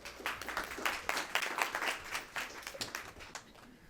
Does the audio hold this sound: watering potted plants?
no